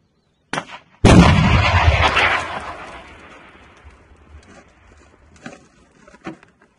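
A sharp click, then a single loud cannon-like shot from a Stugna anti-tank missile launcher booms nearby and rolls away in a long fading rumble, followed by a few faint knocks.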